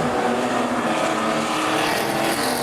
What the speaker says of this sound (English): Car number 6 coming past you now